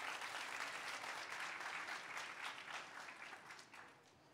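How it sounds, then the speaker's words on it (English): Applause from an audience during a marketing masterclass, a dense, even wash of clapping that is faint and quiet overall, holding steady before tapering off at the end. "big applause, big applause."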